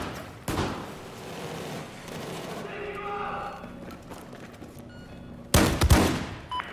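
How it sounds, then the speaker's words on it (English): Gunfire in the video game Battlefield 4, with two sharp, loud shots roughly five seconds apart, the second a close, heavy burst, over a low rumble of battle ambience and a brief spoken voice. "I'll shoot your motion sensor."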